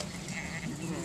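Sheep bleating on a New Zealand farm, a single short, fairly quiet bleat close by, with no talk over it.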